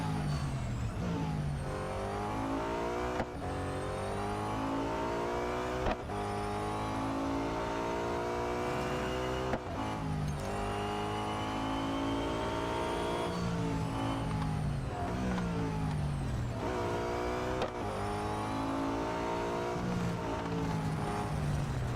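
Nissan R390 GT1 race car engine in Real Racing 3, revving loud and alone through repeated rising gear pulls, each climb cut by a quick shift before winding up again.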